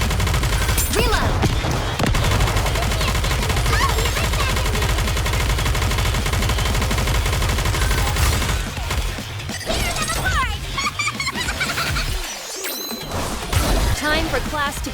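Dense, continuous gunfire in the video game Goddess of Victory NIKKE, a loud unbroken fusillade of rapid shots with whooshes and crashes, mixed under game voices.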